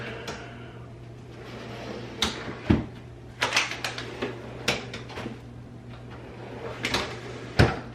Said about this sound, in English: Sliding drawers.